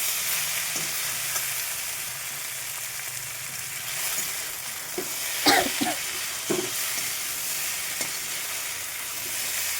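Okra and potatoes fry in a pan for a home breakfast, a steady close sizzle and hiss broken by a few clattering stirs and scrapes of the spatula near the middle.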